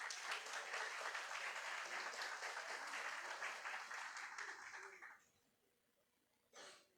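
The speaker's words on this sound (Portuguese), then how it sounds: "Pedi uma salva de palmas para o Arthur, né?" A congregation applauds a certificate recipient during an evening service at a Baptist church, with dense, steady clapping for about five seconds before it stops abruptly, followed by a short, faint rustle.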